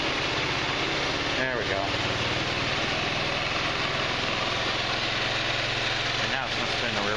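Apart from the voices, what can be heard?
Eagle Craft Verano 150 engine idling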